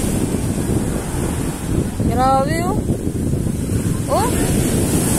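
Heavy surf roars continuously with wind buffeting the microphone, while a person speaks a few excited words over the crashing waves, at night on an open beach in Um Suqeim 2, Dubai.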